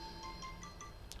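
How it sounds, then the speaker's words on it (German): A mobile phone ringtone chirps in a series of short, evenly spaced electronic beeps over a steady background hum, fairly faint. "Das war mein Handy."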